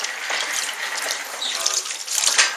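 Tap water runs steadily over freshly dug wild leeks (ramps) as they are rinsed clean, a continuous close splashing gush with small surges.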